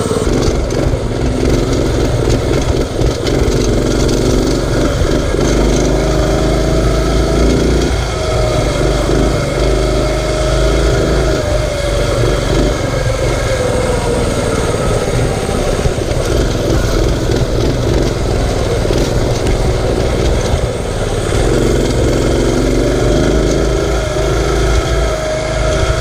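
A mini bike engine with a faulty idle runs steadily and loudly up close for the whole stretch, its buzzy putter rising and falling with throttle blips and revs.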